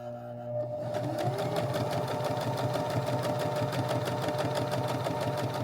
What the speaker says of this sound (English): And then I'm just going to sew following my lines.